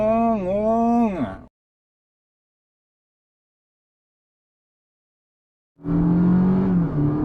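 A Honda HR-V's naturally aspirated engine revs as the throttle is pressed, rising and falling in a close, loud drone for about a second and a half, then going silent before a lower steady engine hum returns.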